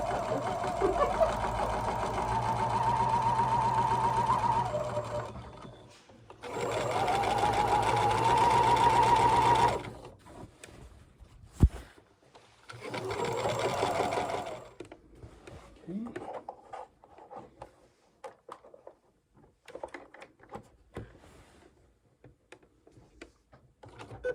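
A sewing machine stitches in two long loud runs, whirring steadily, then stops; softer mechanical clicks and handling noises follow.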